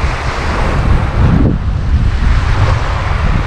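Rough sea seen from a small fishing boat on a trip, with loud continuous wave wash and wind buffeting the microphone, a wave surging louder midway.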